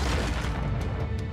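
A massive explosion in the video game Deep Rock Galactic, a heavy booming rumble that starts loud and rolls on with faint crackling debris through its short tail.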